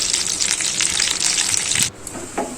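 Green chillies and curry leaves fry in hot oil in a pan, a loud close sizzling hiss that drops off abruptly partway through, leaving quieter crackles.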